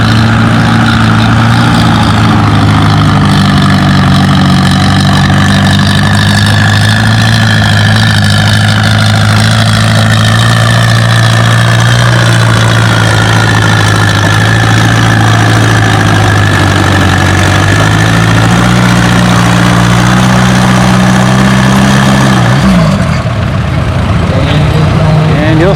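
The engine of a Super CA tractor at a tractor pull idles and labors loudly and steadily, its low drone rising slightly in pitch near the end before dropping, while a voice talks over it.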